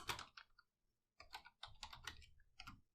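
Someone types a command on a computer keyboard while setting up a Cisco IOS device, with quick bursts of close, crisp keystrokes separated by short pauses.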